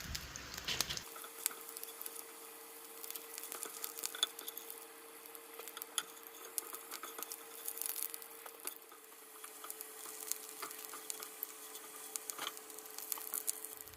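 Hard shell tacos fry in hot oil in a pan, a dense continuous sizzle with fine crackling pops and a faint steady hum underneath, close and unbroken with no talking.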